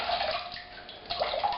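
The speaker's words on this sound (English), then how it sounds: "we emptied out our water and got clean water" Water sloshes and drains from a tub after washing a woolly wrap, a soft, close, steady wash with a few splashy bursts and no talk.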